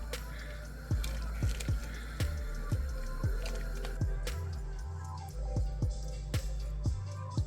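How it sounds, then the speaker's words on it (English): Turkey soup with egg noodles being stirred in a pot, repeated wet squelching clicks and drips at a slow, uneven rhythm, close and moderately quiet. "Give that a stir."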